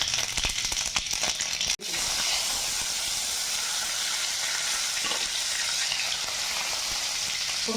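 Mustard seeds drop into three tablespoons of hot coconut oil in a pan, giving a loud, continuous sizzle and hiss with crackles and a brief interruption early on.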